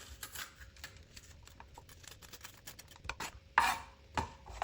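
A kitchen knife chops half a bell pepper into pieces on a board, producing a quick, irregular run of crisp close taps with a few louder knocks toward the end, without any talking.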